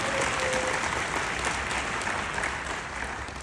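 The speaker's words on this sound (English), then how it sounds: "Let's give Judy a warm round of applause." A conference audience in New Orleans gives a full, steady round of applause, a dense wash of clapping from many hands that holds throughout and eases slightly at the end.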